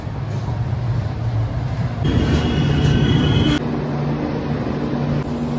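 A Vistadome train coach rolls into New Alipurduar station with a steady rumble of wheels on rails, a louder stretch partway through and a faint squeal, heard from on board.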